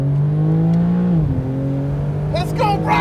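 BMW M3 CS accelerating flat out on a track, a sustained engine drone holding a steady pitch, with a brief dip and shift partway through and excited voices near the end.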